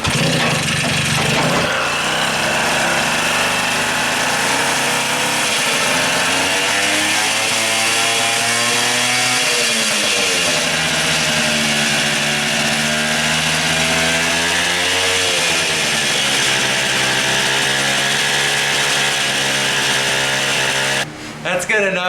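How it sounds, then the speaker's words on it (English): Restored Tomos moped engine running steadily after starting, a loud buzzing two-stroke drone whose pitch rises and falls with the throttle over about twenty seconds. "Thing started right up."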